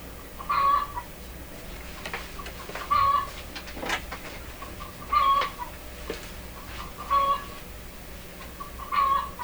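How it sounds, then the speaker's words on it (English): Neighbouring backyard chickens cluck in short repeated bursts about every two seconds, moderately distant over a low steady background, with no one speaking. "Yes, there are chickens here."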